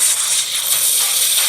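The lockup effect of a custom lightsaber sound board is a loud, continuous, bright sizzling hiss that crackles steadily from start to finish, heard alone.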